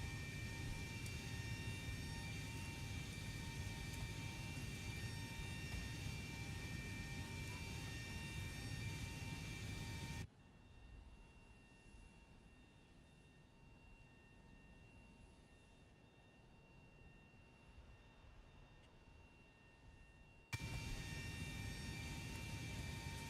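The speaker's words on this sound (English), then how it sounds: "So I can just start this APU. This will get that going." Auxiliary power unit on a Zibo mod Boeing 737 in a flight simulator, a steady whining hum alongside cockpit engine drone, loud at first, then quieter in the middle stretch before the full level returns.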